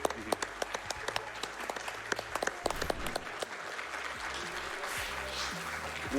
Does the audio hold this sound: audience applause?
yes